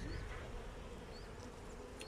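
Honeybees buzz in a dense, steady hum close by during a hive inspection, with no voices over them.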